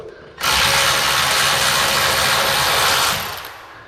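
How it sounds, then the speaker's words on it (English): A small ratchet driver turns a 7/16 bolt on a garage door, a loud, rapid clicking ratchet burst lasting about three seconds, close up and alone. "the little ratchet driver comes in handy"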